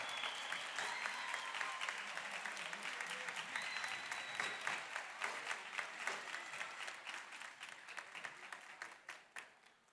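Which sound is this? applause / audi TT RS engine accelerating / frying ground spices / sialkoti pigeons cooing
applause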